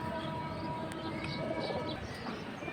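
High-flying pigeons kept as a pair, soft cooing and fluttering close by amid a steady background hum.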